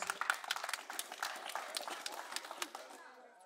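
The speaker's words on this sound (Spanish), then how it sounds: "Tenemos a Reinalda, fuertes los aplausos." An outdoor crowd at a community gift-giving event for schoolchildren applauds. The clapping is fairly faint and somewhat distant, with dense irregular claps that thin out after about three seconds.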